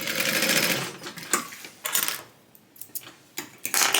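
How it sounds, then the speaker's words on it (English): A sewing machine stitches a folded tote bag seam with a fast, close mechanical whir that starts and stops in short bursts, separated by brief clicks and pauses, and no voice. "I'm also going to just sew along the bottom."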